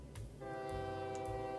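An OpenTTD train departs with a sustained, bright horn blast that starts abruptly and holds steady over a low rumbling background.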